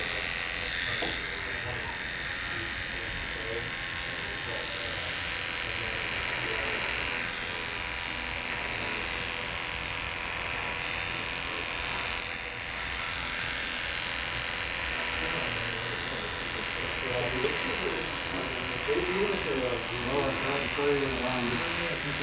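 Electric hair clippers fitted with a modified 0A blade cutting hair during a high and tight flat top at a barber shop, a close, continuous buzz that runs throughout with someone talking over it.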